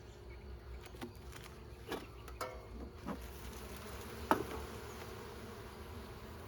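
Honey bees buzz softly around an open beehive during winter preparation. A faint, steady drone carries a few brief, louder passes and one sharp knock partway through.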